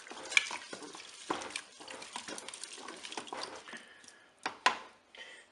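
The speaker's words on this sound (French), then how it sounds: "Je vais mélanger tout ça" A spoon stirring paprika and mustard in a Cookeo multicooker pot, producing quiet, irregular scrapes and taps, with a couple of sharper knocks near the end.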